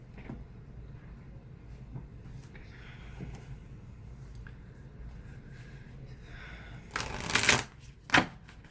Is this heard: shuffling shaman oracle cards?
yes